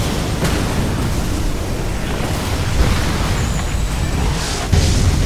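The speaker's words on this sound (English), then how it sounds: "Ion cannon activated." Ion cannon strike in the C&C3 Tiberium Wars strategy game, a loud, roaring explosive rumble that sustains across the clip, with a sharp burst near the end.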